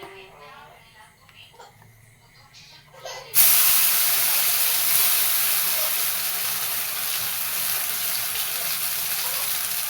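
An onion and tomato puree hits hot oil in a pan for a paneer curry, bursting into a sudden loud, broad sizzle after a few quieter seconds where a voice is heard, then settling into a steady hiss.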